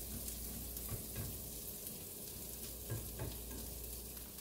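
A bacon and egg omelette fries in a pan with a continuous, even sizzle and crackle, with a few soft stirring knocks and scrapes, no voices.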